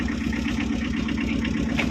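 A Tata Ace HT mini truck's engine idles close by, a steady low rumble with a constant drone throughout, no voices over it.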